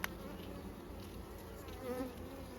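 Honey bees buzz steadily on deep hive frames during a hive inspection, a dense close drone with no speech.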